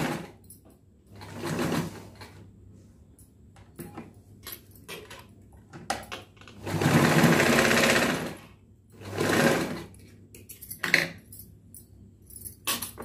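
A sewing machine stitches a blouse in several bursts of rapid mechanical whirring, some short and one long, separated by pauses with faint handling clicks, close and clear with no talking.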